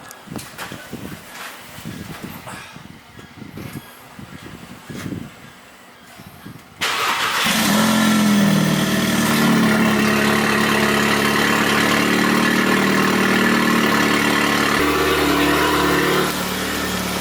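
Quiet rustling and low rumbles give way to a Volkswagen Golf R engine cold-starting with its variable exhaust valve open, then a loud, steady exhaust drone that holds close and full for several seconds.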